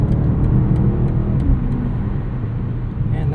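A 2024 BMW X6M Competition SUV gently accelerating up an entrance ramp, a steady low engine drone with road and wind noise inside the cabin, no sharp revving.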